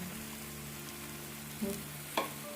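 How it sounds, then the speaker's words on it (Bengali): Ghee with garam masala sizzling in a pan, a soft steady fry under a low background hum, with a couple of brief clinks or stirs standing out near the end. "একটু গরম মশলা দিলাম আর দিচ্ছি একটু ঘি"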